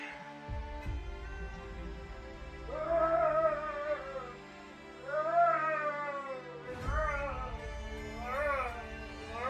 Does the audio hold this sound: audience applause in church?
no